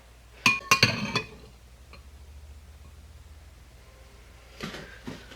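A metal spoon clinking against a glass of homemade strawberry lemonade while fishing out seeds: a quick cluster of sharp close clinks, a lull of faint scraping, then a few more taps.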